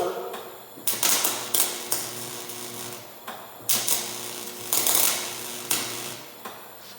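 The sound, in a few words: welder sputtering, stopping and starting while welding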